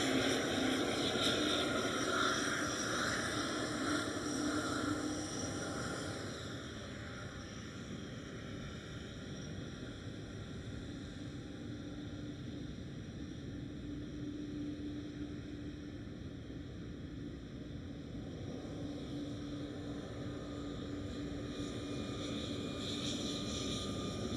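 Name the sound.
airliner at Schiphol airport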